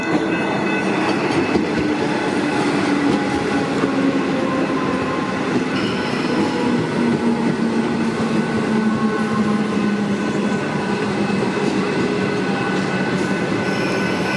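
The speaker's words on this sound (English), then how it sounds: "Comeng's passing the crossing." Comeng electric passenger train passing a level crossing, a loud continuous rumble of wheels on rail with steady motor whine and faint squeal, close and unbroken.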